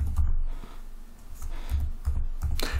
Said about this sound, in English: let's type that in, property services